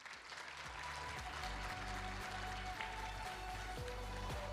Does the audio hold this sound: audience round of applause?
yes